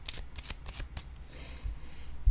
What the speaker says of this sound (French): des fois, là, je déplace mes cartes